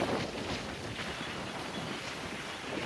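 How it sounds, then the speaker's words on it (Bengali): Strong storm wind roars across the sea beach at Puri, a steady broadband buffeting with wind noise hitting the microphone and surf churning underneath, loud and continuous throughout. "এখানে এখন ঝড় উঠেছে, আমি আর দেওয়া সমুদ্রের পাড়ে এসেছি, কিন্তু ঝড় উঠেছে"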